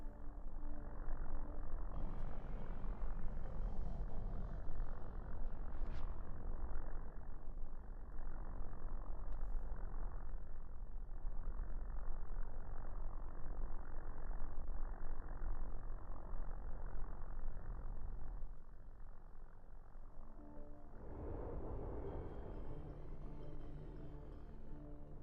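Ship engines in the space game X4 hum as a steady low drone with broad rumble, holding constant for most of the stretch before easing slightly near the end, with no talking over it.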